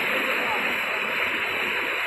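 Neer waterfall near Rishikesh roars as a dense, steady rush of falling water, loud and continuous throughout with no pauses.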